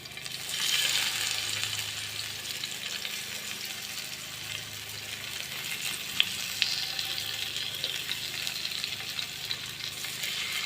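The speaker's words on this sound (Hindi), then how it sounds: "सबसे पहले हमने जो पीसीस मैरिनेट करके रखे थे इनको जो है थोड़ा सा हम जो है फ्राई कर लेंगे दोनों साइडों से" Marinated fish pieces sizzle and fry steadily in a hot pan, a continuous loud crackle with occasional sharper pops, no voices.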